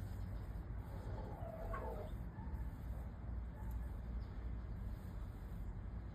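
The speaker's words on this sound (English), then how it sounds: "That's my chicken, guys." A chicken gives a short cluck or two at middle distance over a constant outdoor background hiss, with no talking.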